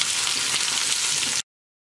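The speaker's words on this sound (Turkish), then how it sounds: "Yağ ısındıktan sonra biberleri içerisine alıyorum." Peppers hit hot oil in a small non-stick pan and set off a loud, dense sizzle. It holds steady for about a second and a half, then cuts off abruptly into silence.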